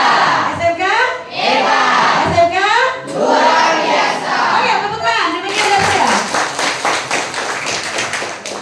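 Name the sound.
students clapping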